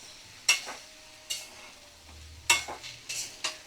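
Bottle gourd and shrimp fry in a pan with a soft, continuous sizzle, broken by several sharp scraping clatters of a spatula stirring against the pan, close by and without talk.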